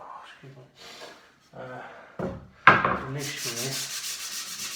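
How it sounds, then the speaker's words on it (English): Sandpaper rubs over wood in short scratchy strokes, then turns into a continuous brisk sanding; someone talks briefly in between. "Now I'm going to use the sandpaper"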